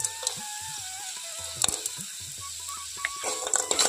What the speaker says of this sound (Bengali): এটা গরম কড়াইতে দেওয়ার সঙ্গে সঙ্গে কিভাবে মেল্ট হয়ে যাচ্ছে